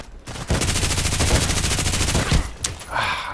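Automatic gunfire from the shooter game Contract Wars: a loud, sustained burst of rapid shots, briefly broken and then resumed, with a single sharp report near the end.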